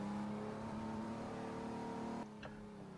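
A slow car in the Assetto Corsa racing game accelerating, its engine a steady rising drone that holds for two seconds, then cuts off abruptly to a quieter hum with a brief whine, no voices.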